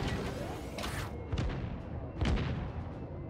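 Ship guns firing in World of Warships as a cruiser fights, several deep booming shots spaced about a second apart over a constant rumbling battle backdrop.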